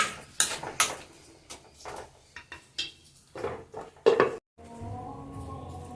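Pineapple pachadi being stirred in a pan, with a spoon knocking and scraping against the metal in quick, irregular clatters close by, ending in a steady low hum.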